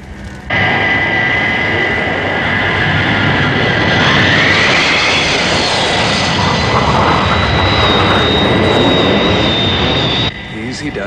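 A Thunderbird aircraft banking on final approach with flaps down gives a loud, steady jet-engine roar with a rising whine, holding for about ten seconds before cutting off abruptly.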